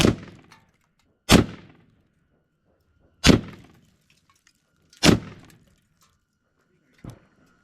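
Single rifle rounds, some from an AK, strike a steel manhole cover outdoors, each giving a sharp metallic crack and clang with a short decay. Four loud, well-spaced impacts are followed by a fainter fifth.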